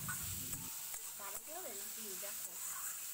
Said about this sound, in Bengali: ধুয়ে রাখা মুগ ডাল এখন দিয়ে দেব, আর আঁচ কমিয়ে সমস্ত কিছু একটু কষিয়ে নেব।